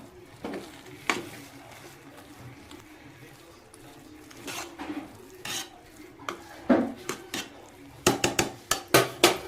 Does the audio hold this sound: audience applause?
no